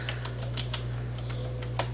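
Sticky keys of a customer-returned computer keyboard are pressed in a few scattered, uneven clicks, close and moderately loud over a steady electrical hum.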